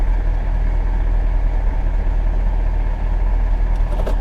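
A 2001 Mercedes S600 with warning lights lit idles steadily up close, its low, even engine hum filling the cabin throughout as it is shifted into gear, with a faint click or two near the end and no voices.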